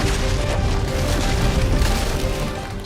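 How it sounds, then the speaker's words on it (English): A sustained, dense crashing roar of breaking debris and splintering material, loud and continuous throughout, like a wall blasting apart. "A wall explosion."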